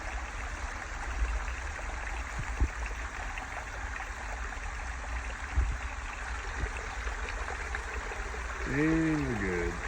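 Water steadily overflowing and trickling from a homemade recirculating high banker used for gold prospecting in the Arizona desert, a continuous close splashing flow with a voice briefly rising near the end.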